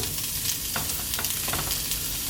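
Pork ribs sizzle steadily on a hot griddle for Chinese-style red glazed ribs, a continuous bright crackling hiss with no talking.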